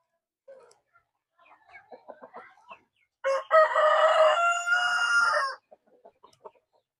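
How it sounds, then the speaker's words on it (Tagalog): An upgraded native heritage-cross chicken in a backyard farm gives one loud, close crow lasting about two seconds, with soft clucks before and after. "Upgraded na native chicken sa ating heritage."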